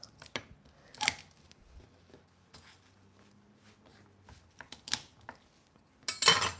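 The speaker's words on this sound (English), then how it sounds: "So now I'm prepping my garlic." Garlic being chopped on a board during risotto prep, a few scattered sharp knife taps spread over several seconds with quiet gaps and faint kitchen clatter, no speech.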